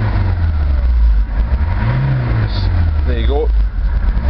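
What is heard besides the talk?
Ford Transit van engine idling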